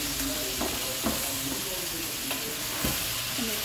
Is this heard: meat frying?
yes